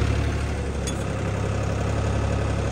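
A tractor engine runs steadily near at hand with a little throttle, a constant low diesel rumble and hum with slight knocking and no rise or break across the stretch, and no voices.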